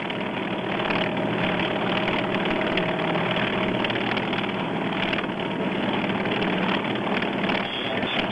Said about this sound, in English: The engines being raced now to make sure they're all right.